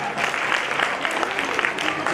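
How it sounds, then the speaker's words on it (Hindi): Applause for young schoolchildren after a quiz contest, a steady wash of clapping from an audience filling the room, moderately loud and even throughout. "जोरदार तालियां हो जाएं इनके लिए"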